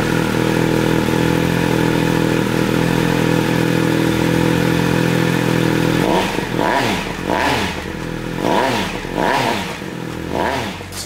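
A Triumph Speed Triple 1200 RS motorcycle with a cat eliminator and SC Project carbon exhaust idles with a loud steady drone, then revs sharply several times in quick succession, close by.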